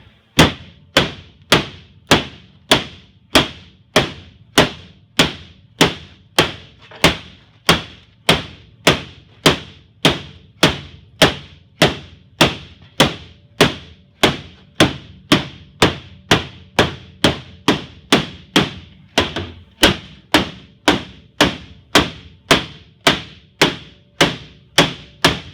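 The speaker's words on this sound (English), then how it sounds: "we're going to pound it over the interior." Outer piece pounded over an interior piece with a hammer: a long, steady series of loud, close thuds, roughly two blows per second, each sharp strike ringing briefly, with no talking.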